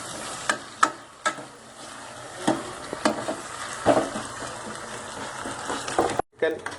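Potatoes fry in masala for chicken curry with a soft close sizzle, punctuated by sharp scraping knocks as a spoon stirs them around the pan.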